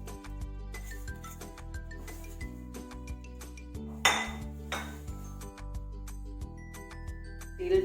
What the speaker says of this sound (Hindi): अब मैं इसमें ये तिल डाल रही हूँ।